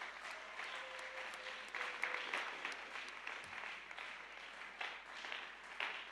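A church congregation bursts into sustained applause and cheering, a dense crowd of hands clapping with scattered shouts, rising and falling in waves across the whole stretch.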